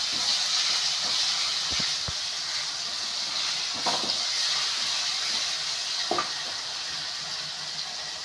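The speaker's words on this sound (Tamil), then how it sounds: "அந்த பேஸ்ட்டு ஒரு 2 ஸ்பூன் போட்டுட்டு நல்லா வதக்கி விட்டுக்கலாம்." Ginger garlic paste sizzles steadily while being sautéed in a pan for a Tamil chicken kulambu, a continuous close frying hiss with a few faint clinks of a spoon.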